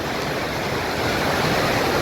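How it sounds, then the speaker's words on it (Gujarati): Rain-swollen water rushes loudly and continuously past the Jatashankar Mahadev temple near Junagadh, a dense steady roar like a waterfall with no breaks. "વરસાદના કારણે પાણી ફૂલ વધી ગયું"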